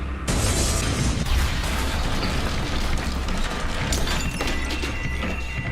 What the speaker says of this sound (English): We hear another explosion.